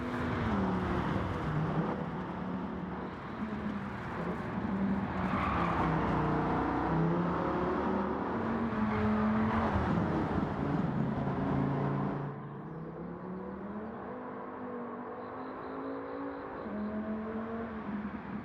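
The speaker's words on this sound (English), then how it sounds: "That V10 deep, growly, beefy sounding engine sounds absolutely awesome" A Dodge Viper GTS V10 in Gran Turismo 7 roars continuously, a deep, growly engine note rising and falling with revs, then dropping to a lower, quieter drone near the end, with no talk.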